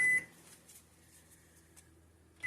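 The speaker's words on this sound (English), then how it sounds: "And that is my timer." A kitchen timer sounds faintly while beignet dough is being made, with a short beep at the start and another at the end and a quiet hum between.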